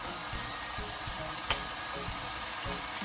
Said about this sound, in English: saute your vegetables in there with it. So now I'm putting all of my vegetables in.